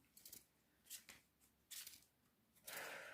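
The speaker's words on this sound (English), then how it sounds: "And then I shuffle them a little" A deck of tarot cards is shuffled by hand in several short, soft riffling bursts, close and quiet, with pauses between them and no talking.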